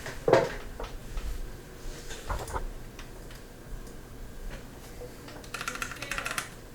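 Computer keyboard keys pressed on a Ryzen 5 3600 gaming PC, a few sparse, irregular clicks and taps close by, with a short quicker burst of tapping near the end.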